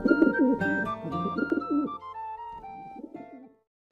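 Pigeon cooing: soft, throaty, low coos repeating in a steady rhythm, fairly close and clear with no talking, fading out near the end.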